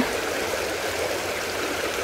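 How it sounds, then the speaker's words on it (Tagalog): Strong mountain stream rushing in a steady, broadband roar, close and continuous with no voices. "Malakas ang agos ng tubig."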